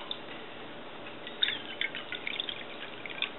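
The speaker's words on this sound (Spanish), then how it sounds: "primero que nada vamos a echar el agua" Half a cup of water poured into a spray bottle while mixing a soap-and-vinegar granite cleaner, heard as a faint, soft trickle with a few small splashes and drips, with no talking.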